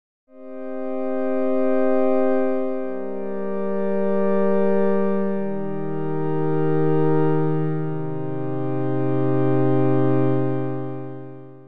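Soft sustained synth pad from Padshop 2 built on short grains with the filter cutoff at 2000 Hz, playing a smooth, slowly shifting chord progression that swells gently and continues alone.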